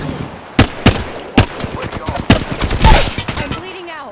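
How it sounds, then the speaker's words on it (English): Gunfire in Apex Legends, a series of sharp close shots followed by a rapid burst of automatic fire that swells and then cuts off, with scattered impacts between. "Getting shot at."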